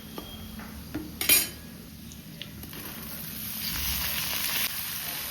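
Ridge gourd is tipped into hot oil in a kadhai with dry chillies, cumin and onions. There are a few metallic clinks of a utensil, then a rising sizzle and frying hiss, with no talk.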